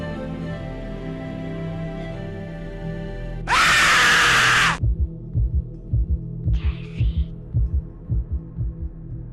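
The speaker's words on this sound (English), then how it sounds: "the product with a heartbeat sound effect" A low hum and a screaming burst give way to a steady heartbeat thumping about a dozen times, each a deep double pulse.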